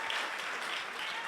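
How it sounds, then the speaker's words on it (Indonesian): A church congregation at a Sunday service in Batam claps together, a dense, even wash of applause filling the hall for a short stretch. "Tepuk tangannya sedikit sekali untuk Tuhan"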